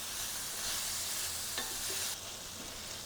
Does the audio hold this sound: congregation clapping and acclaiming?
no